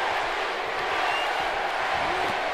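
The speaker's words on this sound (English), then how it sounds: "This crowd is buzzing." In the WWE 2K18 wrestling video game, the arena crowd keeps up a dense, steady roar with no breaks, loud and washing over everything.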